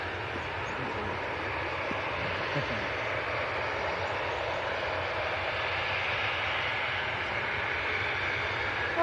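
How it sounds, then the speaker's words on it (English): An EasyJet airliner departs runway 23 left at Manchester Airport bound for the Isle of Man. Its jet engines make a broad, continuous roar that stays steady and fairly distant throughout, with no voice heard. "first to go off, 2-3 left, EasyJet to the Isle of Man"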